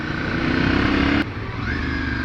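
A Ducati beginner motorcycle engine drones steadily, cuts out briefly as the rider shifts up a gear, then pulls again with a rising pitch as it accelerates, heard close and loud.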